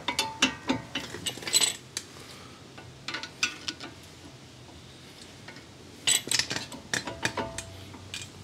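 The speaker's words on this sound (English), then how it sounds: "Let's try taking our caliper off again." Metallic clinks and scraping clatter from work on the front brake caliper of a 2015 Jeep Grand Cherokee WK2, coming in short irregular bursts with quiet gaps, close by and fairly faint, with no talking.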